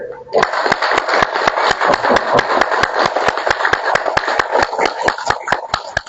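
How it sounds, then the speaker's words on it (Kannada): A group clapping hands together at a morning yoga session, with sharp claps in a steady, fast rhythm that carry on without a break, loud and close. "ಈಗ ತಗೊಳ್ಳಿ ಎಲ್ಲರೂ ಚಪ್ಪಾಳೆ ತಟ್ರಿ"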